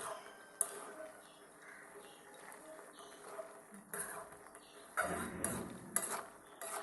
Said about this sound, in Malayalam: ഇനി ഇത് നല്ലൊന്ന് ഇളക്കി മിക്സ് ചെയ്തെടുക്കണം.